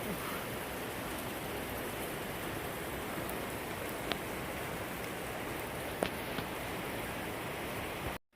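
Heavy rain pours down steadily on a hiking trail in Fiery Gizzard, South Cumberland State Park, a dense continuous hiss that fills the whole stretch with no talk.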